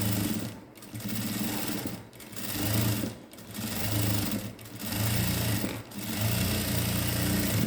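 Sewing machine stitching elastic into the waistband of ladies' pants, running in steady bursts of rapid mechanical whirring with four brief pauses, close and loud, no voices.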